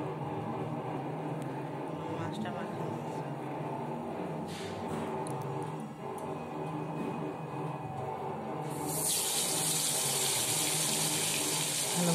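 Fish rubbed with salt and turmeric goes into hot oil, and a dense hiss runs throughout before it swells into a louder, bright, steady sizzle toward the end.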